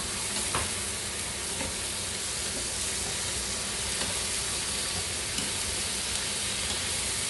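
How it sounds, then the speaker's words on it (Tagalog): Tomatoes hiss and sizzle steadily with caramelized onions in a hot pan, a dense, continuous frying noise close by, with occasional faint stirring clicks and no voices. "igigisa lang natin siya"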